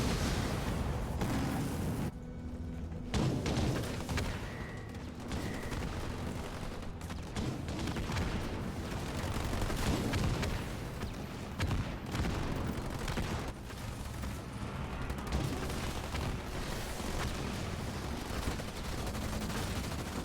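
Grenade blasts and gunfire in a Halo Wars 2 tournament match, a dense, continuous barrage of battle noise with repeated bangs and rattling shots, steady and fairly loud for the full twenty seconds, with no speech.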